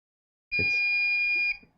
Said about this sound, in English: That's the other beep.